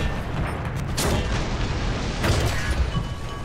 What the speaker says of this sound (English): Oh, we got hit by a Panzer 4.